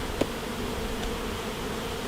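Honey bees buzzing in a jar during a varroa mite alcohol wash with 70% alcohol, a steady dense hum heard up close with a faint tap near the start.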